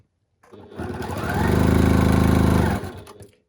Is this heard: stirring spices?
no